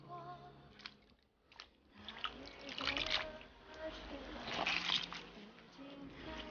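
Salted napa cabbage rinsed in clean water for kimchi: soft, quiet splashing and sloshing with intermittent watery handling sounds, close by and without speech.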